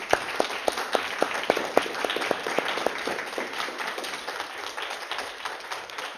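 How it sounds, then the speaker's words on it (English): Audience applause for the finalists at the Bennett Prize opening presentation, with a few distinct claps out front over a broad, steady wash of clapping from the crowd. "Please, ladies, why don't you give yourselves a round of applause?"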